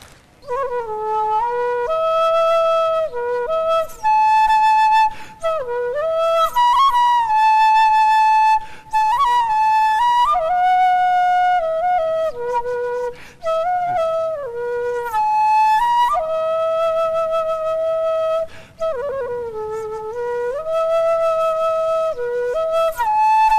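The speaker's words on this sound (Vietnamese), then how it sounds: "Tiếng sáo là réo rắc lắm á nha, có thể là rung động lòng người ta đó." A Vietnamese bamboo flute plays a bright, clear melody of sustained and sliding notes with brief pauses between phrases, loud and close throughout.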